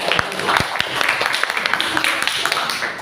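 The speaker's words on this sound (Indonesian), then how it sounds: "Beri tepuk tangan buat Mas." Classroom applause during an Islamic education lesson on marriage: brief, fairly loud, busy clapping with sharp taps throughout, with voices mixed in.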